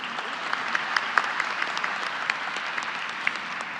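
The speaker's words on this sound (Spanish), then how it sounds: "Un aplauso, por favor." A conference audience claps steadily throughout, a dense, even patter of many hands at moderate distance, with no talking over it.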